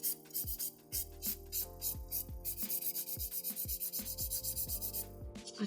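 Fiber gel nails are filed with a 180 grit nail file in quick, rhythmic back-and-forth strokes, a close, crisp scratchy rasping repeated steadily.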